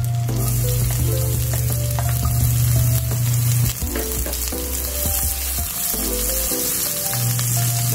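Garlic frying in oil, a steady close sizzle with a low hum running underneath and a brief dip partway through, no voices.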